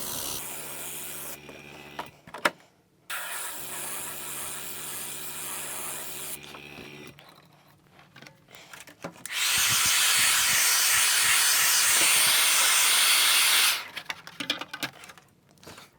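An airbrush or spray gun lays another coat of paint onto a hobby body, giving bursts of hissing spray, with one long loud burst near the end, between pauses and mechanical noises.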